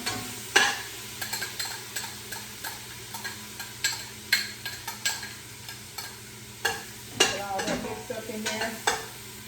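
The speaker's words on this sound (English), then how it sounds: "I'm going to stir it up, get it all mixed up in there" Onion and garlic stirred into browning ham in a pan, with repeated spoon scrapes and clanks at an irregular pace over a soft, steady sizzle, close and fairly quiet, without talk.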